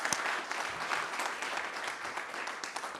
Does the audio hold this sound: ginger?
no